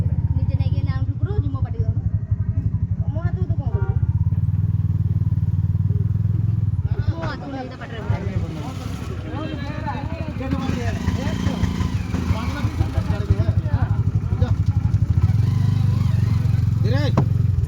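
A motorcycle engine rumbles steadily throughout, close and loud, with a brief dip midway before the throttle picks up again amid road clatter, while people talk over it.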